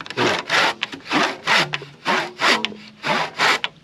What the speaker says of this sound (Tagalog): mapurol na yung lagari